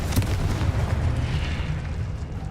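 Confringo spell explosion in Hogwarts Legacy blasting statues, a loud rumbling burst with a dense low roar that sustains and slowly fades over a couple of seconds.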